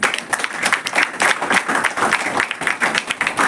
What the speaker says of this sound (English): One big clap.